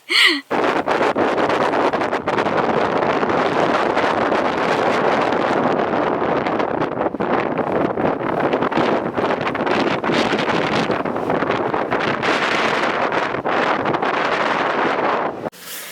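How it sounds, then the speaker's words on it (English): Strong wind buffets and roars continuously for the whole stretch, gusting loudly against the microphone, with no speech. "judging by the howling wind that you're going to hear in that clip"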